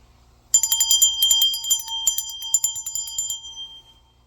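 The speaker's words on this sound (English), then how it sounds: "So right now we just gonna ask Spirit to come in. We gonna ring this bell." A bright bell rings in a rapid cluster of strikes, a pause, then another burst, its clear tone lingering and fading in a quiet room.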